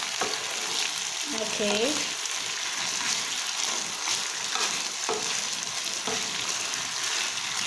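Chicken adobo marinade sizzling and being stirred in a hot pan, with a steady frying hiss, scraping stir strokes and a few clanks throughout, and a brief spoken word over it.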